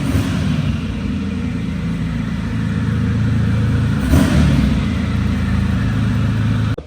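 A Gunther Werks supercar rolling in on a street lined with million-dollar supercars in Miami, its engine droning and revving steadily at close range, with a brief louder swell midway.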